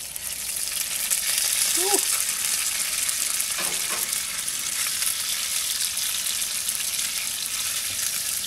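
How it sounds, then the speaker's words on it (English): Spam fries in hot oil in a cast iron pan with a loud, continuous crackling sizzle up close. It holds steady throughout, with a brief faint stirring or clink near the start. "that's some hot oil"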